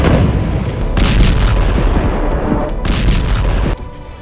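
Explosions from Israeli strikes on military sites in Syria, a loud sustained rumbling blast with repeated booming bursts, then dropping off abruptly near the end.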